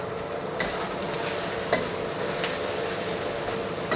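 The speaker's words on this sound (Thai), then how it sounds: "เราใส่ผักคะน้าเฉพาะก้านลงไปก่อน แล้วก็ใบค่ะ" Chinese kale stalks and leaves stir-frying in a hot pan for a glass-noodle stir-fry, a steady close sizzle broken by a few sharp scraping stirs, with no talking.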